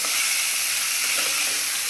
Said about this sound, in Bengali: এই যে শঙ্কর মাছটা এখন ভাজা হচ্ছে